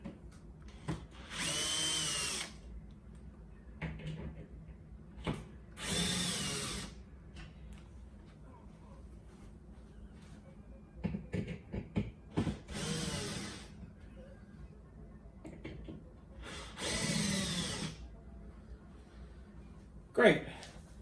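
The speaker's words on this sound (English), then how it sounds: "Now we want to loosen this bolt and this bolt on both sides." A power drill loosens bolts on an Arcade1Up arcade cabinet in several short whirring bursts separated by pauses, close and moderately loud, with someone speaking between and around them.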